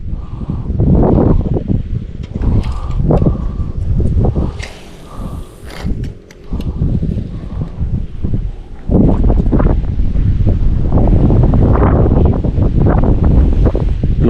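Strong gusting wind buffets the microphone beside a fast-flowing canal with shellfish beds, the rushing water and roaring wind loud and continuous throughout, dipping briefly mid-clip before surging back.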